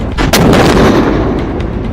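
An anti-tank guided missile launches during an Indian Army exercise in a super high-altitude area of Sikkim, a single loud, sharp blast followed by a heavy rumbling roar that stays close and sustained.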